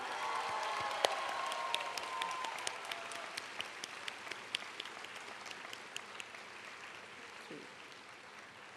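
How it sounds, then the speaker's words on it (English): University convocation audience applauding, a broad sustained wash of many hands that slowly thins and fades, with scattered distinct claps poking through as it tapers off; a brief voice sounds early on. "Let's give them our warmest round of applause"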